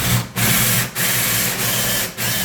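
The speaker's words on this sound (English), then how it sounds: "I'll drill the hole completely through" A power drill bores a hole right through a timber door, its motor whirring in sustained bursts broken by three brief pauses, close and loud.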